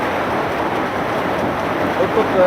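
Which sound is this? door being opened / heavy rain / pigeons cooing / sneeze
heavy rain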